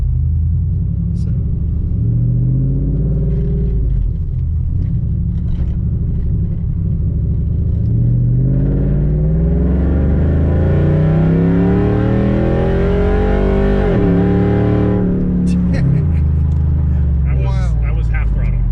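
A Coyote-swapped truck revs and accelerates at half throttle, a loud, close, deep rumble that swells and climbs in pitch, then drops away as voices break in near the end.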